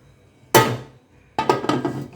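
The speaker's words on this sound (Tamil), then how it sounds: "இப்போ வந்து மூடி போட்டு மூடி வச்சிடலாம்." A metal lid is set onto a pot holding a tin of eggless chocolate cake for baking, making one sharp clank followed by a second rattling clatter as it settles, close and clear.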